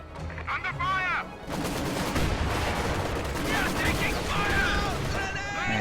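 Dense gunfire in a World War II strategy game battle, rapid overlapping shots and machine-gun bursts sustained throughout, with brief radio-style voice callouts near the start.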